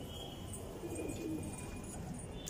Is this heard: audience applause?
no